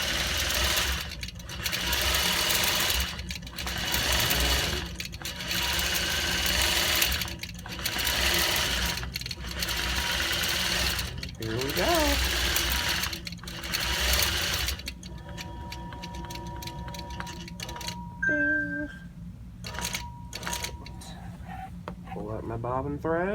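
Statler Stitcher computerized quilting machine stitching a border corner, its rapid steady needle hum running loud and continuous, then giving way to quieter short mechanical beeps and clicks near the end.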